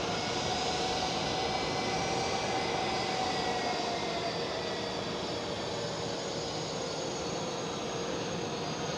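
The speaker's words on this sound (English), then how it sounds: "A little burst of power for the Delta Airlines A330 getting into the gates" A Delta Airlines Airbus A330 taxiing to its gate at Amsterdam Schiphol gives a brief burst of jet engine power, a steady broadband roar that holds loud and even for the whole stretch, with no voices.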